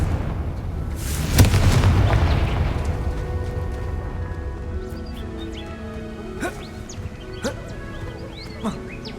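A loud spell explosion from Confringo in the video game Hogwarts Legacy bursts once as a heavy boom, then rumbles and fades into a quieter game soundscape dotted with small clicks and chimes.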